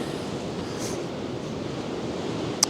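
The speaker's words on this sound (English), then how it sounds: "today with that wind cutting through there" Wind gusting across Cromer Pier by the sea, a steady close rushing roar like surf against the microphone with a brief knock near the end, no voices.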